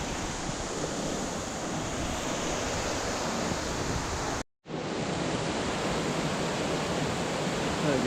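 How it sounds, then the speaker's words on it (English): Rushing water from Steall Falls, the second highest waterfall in Scotland, a dense, loud, continuous roar heard close by, broken only by a brief dropout midway before the steady rush resumes. "Steall Falls, second highest waterfall in Scotland"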